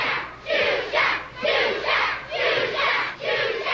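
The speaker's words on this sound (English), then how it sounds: "we just have a crowd screaming for Xuxa" A large crowd on a TV broadcast screams and chants for Xuxa in loud rhythmic surges, about six swelling cries in a row, each rising and falling, with no separate speech.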